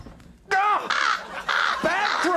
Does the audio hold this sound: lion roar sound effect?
no